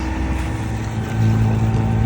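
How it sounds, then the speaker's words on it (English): Yanmar 3YM30 marine diesel on a sailboat running at steady RPM, its starboard exhaust giving a close, continuous throbbing drone with a low pulsing hum and no talk. "So this is the starboard exhaust, same RPM on both sides."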